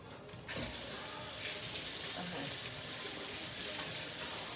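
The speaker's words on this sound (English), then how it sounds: "Let me rinse these real quick." Kitchen tap water runs steadily into a sink as food is rinsed, a broad continuous hiss throughout, with faint movement and a brief voice-like sound near the start.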